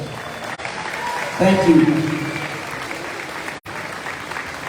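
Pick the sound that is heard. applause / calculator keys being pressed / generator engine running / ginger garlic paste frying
applause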